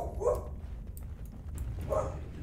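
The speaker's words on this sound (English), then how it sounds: "Sorry about the dog. She's going to continue to bark." Dog in Dragon Age: Origins giving two short barks or yips about a second and a half apart, moderately close over a low background rumble.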